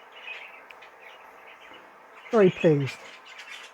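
Zebra finches in a bird shed give a pair of short, bright chirps close by, set against a steady low background hum, with a brief spoken phrase nearby.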